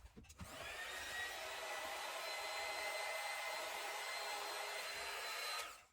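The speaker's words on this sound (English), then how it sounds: "I'm going to use the heat gun real quick here for just a second" A heat gun blows hot air over resin in one steady, fairly quiet whooshing hum lasting several seconds, then clicks off.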